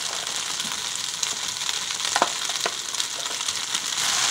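Potatoes and sausage fry and brown in hot oil, a dense, continuous close-up sizzle with a few soft stirring scrapes and no talk.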